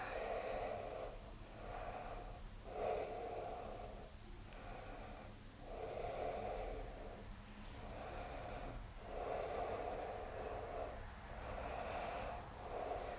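Slow, steady breaths repeat in a calm rhythm during yoga practice, each soft inhale and exhale rising and fading at an even pace, close and unhurried with no talking.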